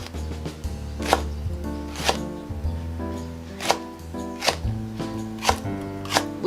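A knife chops crunchy green peppers on a cutting board for a Korean seasoned side dish, giving a series of sharp, crisp cuts at an uneven rhythm over soft background music.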